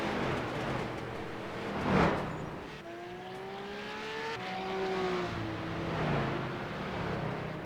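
Street stock race car engines in iRacing, several cars roaring and revving with rising and falling pitch sweeps as they pass close by, steady and loud, with no talking.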